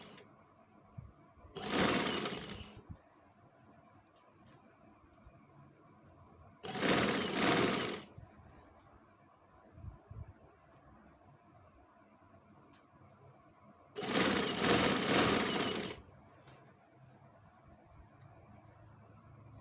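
A sewing machine stitches a sleeve onto a kameez in three separate bursts of fast whirring, each lasting about one to two seconds with quiet gaps between them. It sounds close, with no talking.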